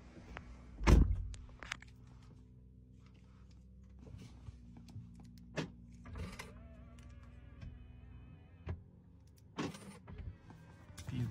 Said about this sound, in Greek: Κλειδώνει, ξεκλειδώνει.